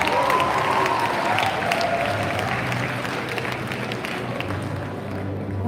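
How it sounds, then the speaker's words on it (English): An audience at a school prize day gives sustained applause, dense clapping with some cheering in a large hall, holding steady while music plays underneath. "Let's give Ms. Deepika a huge round of applause."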